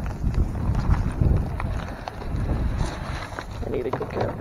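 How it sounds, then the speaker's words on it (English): Wind gusting outdoors by a goat kidding pen while hay is raked, a heavy low buffeting rumble across the microphone that swells and eases throughout, with faint scraping sounds underneath. "we do have a little bit of wind"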